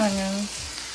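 Onions going into a hot pan for basil chicken, a short bright sizzle and crackle of frying, close and brief, with a tonal ring at the start that fades quickly.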